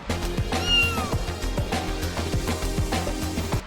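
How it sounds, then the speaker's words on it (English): Orange tabby cat in the video game Stray meowing several times, clear close meows over a steady background of game music. "The cat in the game, the orange tabby"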